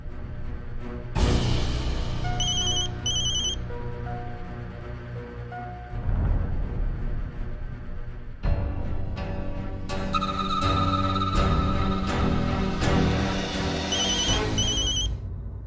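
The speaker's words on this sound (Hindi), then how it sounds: "किसका फोन है?" A telephone ringtone plays repeatedly in a bright, chiming melodic pattern, loud and close, with a low rumble underneath and no speech.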